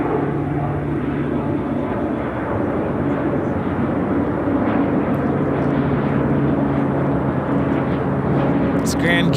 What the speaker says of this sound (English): It's Grand Caravan taking off to Quincy, Southern Airways Express 488.